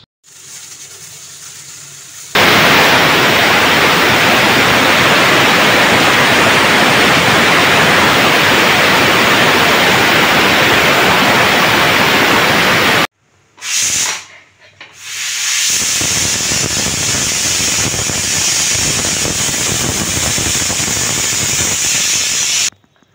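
Loud, steady hiss of steam venting from a pressure cooker cooking potatoes for aloo posto, broad and continuous, briefly cutting out then resuming at a slightly lower level.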